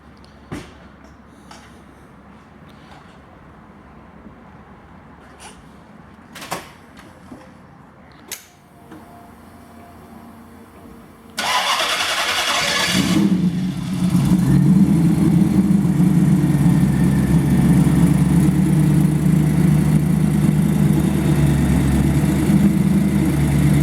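A 1932 Ford five-window coupe hot rod with a Hemi engine cranks after some clicks and handling noises, catches with a burst, then settles into a loud, deep, loping idle that rumbles close by for about ten seconds.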